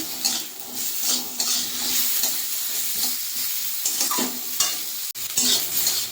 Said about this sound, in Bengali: একটু ভেজে নেবো এটা। একটা কাঁচা লঙ্কা দিয়েছি।